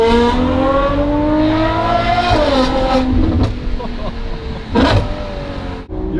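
A Ferrari engine revs hard and accelerates, its loud rising engine note climbing steadily, dipping briefly, then surging again close by, with a voice talking over it.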